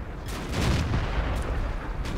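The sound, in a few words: tank gun firing in a tank video game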